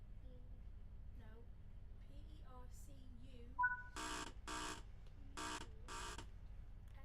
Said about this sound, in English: Waiting for the guard buzzer.